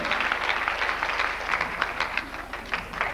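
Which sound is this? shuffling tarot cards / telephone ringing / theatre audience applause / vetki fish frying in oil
theatre audience applause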